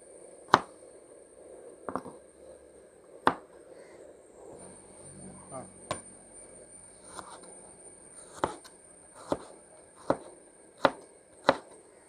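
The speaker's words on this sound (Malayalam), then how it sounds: "നമുക്ക് ഈ തേങ്ങായി ഒന്ന് കുത്തിയിട്ടിടാം. സ്വല്പം നീളത്തിൽ കിടന്നോട്ടെ തേങ്ങായും." A knife chopping coconut into long strips on a board in a home kitchen while preparing Kerala-style pork fry, about a dozen sharp, isolated taps spaced irregularly over quiet background.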